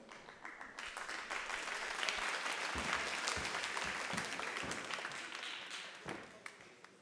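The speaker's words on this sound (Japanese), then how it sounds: "拍手での応援よろしくお願いいたします" Audience at a GLADIATOR mixed martial arts event in Osaka claps steadily for about seven seconds, a sustained wash of hand claps with some sharper individual claps near the end, without cheering.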